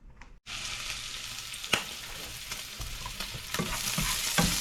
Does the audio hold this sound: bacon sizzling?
yes